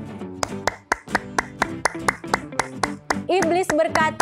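Children play a Sunday school clapping game, producing a quick, regular series of sharp hand claps over music and voices, with talk near the end.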